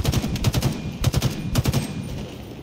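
Automatic weapon fire in a Halo Infinite multiplayer capture-the-flag match, three quick bursts of rapid shots at a regular rhythm, fairly close and sharp, with no voices over them.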